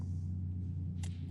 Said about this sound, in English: Yeah, the log trucks are close.